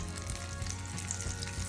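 About a tablespoon of olive oil heating in a hot skillet, giving a steady close crackling sizzle that holds evenly throughout this very short moment, with no talking.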